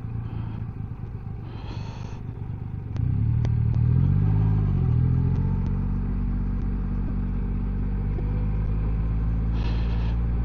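Triumph Rocket 3 motorcycle engine under way on the road, a loud steady low drone that swells as revs climb and sweep upward, then settles into a constant cruising hum, with faint clicks above.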